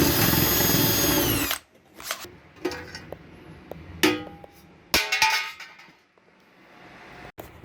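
A power tool drills out a rivet during a PC upgrade, with a long loud whine at first, then several short bursts and clanks separated by quiet gaps.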